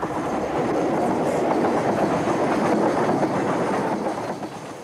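Class 150/2 Sprinter diesel multiple unit calling at a small branch-line station on an Exeter Central to Paignton service, a steady close rumble of wheels and engine with faint rhythmic clatter, fading slightly at the end.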